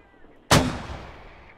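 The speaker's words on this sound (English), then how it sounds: "mortar's going out now" Single mortar round fired in a Squad military shooter game, one sharp loud launch thump followed by a long fading echo, with no talk over it.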